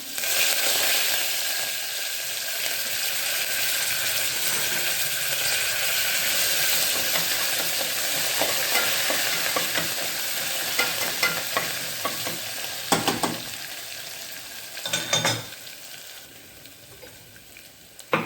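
Ginger-garlic paste and curry leaves sizzle steadily in hot oil, a continuous close frying hiss with sharp crackling bursts and spatters near the end as the leaves hit the pan, no talking.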